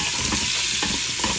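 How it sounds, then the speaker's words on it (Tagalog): A steady, close sizzle of onion and whole garlic sautéing in a hot pan, with soft stirring scrapes. "nagisa naman ako dito ng sibuyas, tsaka buong bawang"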